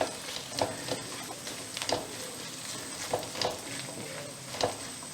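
Coconut pieces frying in a pan for Kottayam-style pepper pork fry, a soft continuous sizzle broken by periodic scraping and clacking of a spoon stirring them, close and fairly quiet.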